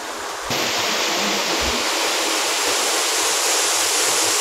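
A waterfall at Keonjhar in Odisha, running with less water than usual, roars in a loud, steady, unbroken rush, heard alone.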